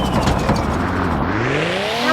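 A car engine in the Roblox game revs hard at top speed, a loud, close, continuous whine whose pitch climbs steadily as the car accelerates.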